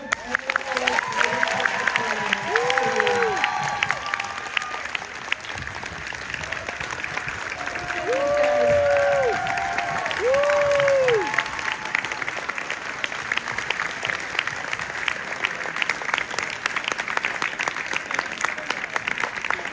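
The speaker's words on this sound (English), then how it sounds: "one more round of applause" Audience applause after a K-pop musical's final performance, a dense steady clapping wash filling the room, with a few voices and sung or called tones rising above it midway.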